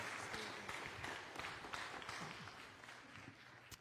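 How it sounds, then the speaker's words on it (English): Church audience applauding as performers come on, a steady wash of many hands clapping at moderate level with no talk over it, thinning slightly toward the end. "Y'all give them a round of applause as they come on."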